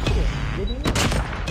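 Enemy gunfire in the mobile shooter Call of Duty Mobile, a continuous loud rattle of rapid shots with a couple of heavier bursts standing out toward the end.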